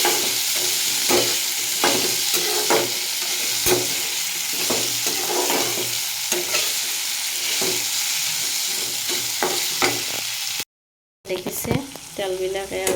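Meat sizzles and fries in oil in a covered pan, with a steady close crackle and scattered pops and stirring clatter. A brief silent gap comes near the end, then the frying resumes.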